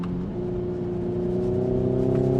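Synthetic engine note from a Hyundai Ioniq 5 N electric car, a steady loud droning hum with harmonic tones that rise slightly as it accelerates, heard alone without talk.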